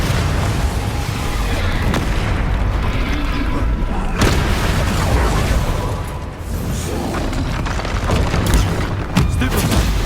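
A Confringo fire spell detonates in Hogwarts Legacy amid busy game combat, with a sharp blast around the four-second mark over a dense, continuous rumble of effects and background music, and further hits following later.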